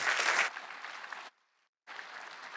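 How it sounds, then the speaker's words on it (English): An audience at a university venture prize pitch night applauds in a brief, fairly faint burst of clapping, broken by a short silent gap before the clapping resumes. "Let's give them a round of applause."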